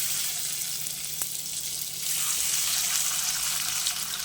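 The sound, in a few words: paneer frying in oil in wok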